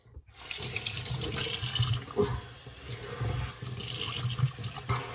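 Running tap water rinses hair under a shower, a continuous close rush that swells and splashes unevenly as the water hits the head, with no talking.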